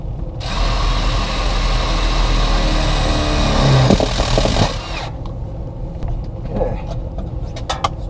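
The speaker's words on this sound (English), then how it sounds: "And we'll drill one more hole right here." A power drill bores a hole near an uncleanable coil, a loud steady whine running for several seconds before stopping abruptly, followed by quieter clicks and rattles.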